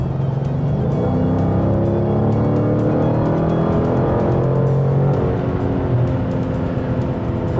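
A 2016 Dodge Challenger R/T Scat Pack with a 485-horsepower engine pulls steadily under throttle on the road, its deep engine note and drivetrain hum continuous and loud from inside the car, with no talking.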